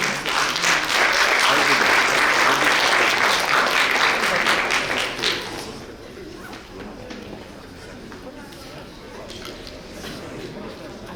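An evening investment forum audience gives a loud, dense round of applause for a final-year banking and finance student team, then it cuts off and leaves a quieter room murmur.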